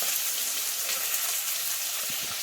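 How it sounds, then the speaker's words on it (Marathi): Chopped onion crackling in hot oil in a pan after mustard seeds, cumin and curry leaves, a steady close-up hiss of frying throughout with no talking. "नंतर आपण कांदा तडतडून घेऊ थोडासा"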